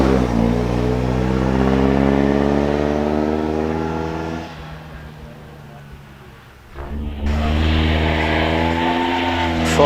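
A 4.25 litre unsupercharged vintage Bentley climbs a hill course, its engine roaring loud and close with rising revs, easing off briefly mid-climb before surging strongly again.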